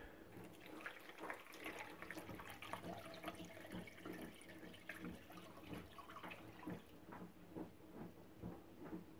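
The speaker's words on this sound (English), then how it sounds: "Okay, now we're gonna drain everything." Elderflower liquid is drained from a container, a quiet splashing and trickling stream of liquid with irregular patters and drips, steady throughout and heard alone.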